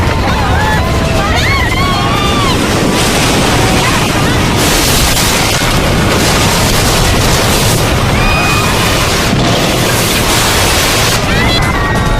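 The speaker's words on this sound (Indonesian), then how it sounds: "Gelombang tsunami menghancurkan rumah-rumah penduduk." A loud, continuous roar of crashing tsunami waves and rushing water destroying houses after the Krakatau eruption, a dense wall of noise throughout with voices faintly mixed in.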